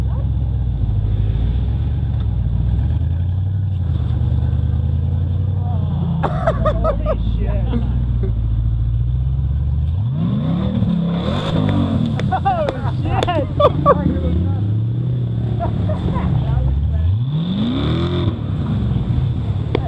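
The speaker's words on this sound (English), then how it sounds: "Dude, it's got a Hellcat motor in it." Car with a Hellcat engine revving nearby, a low steady idle rumble that swells into several rising and falling rev sweeps, with people talking excitedly over it.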